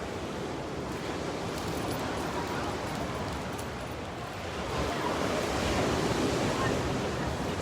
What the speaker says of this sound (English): It's big waves.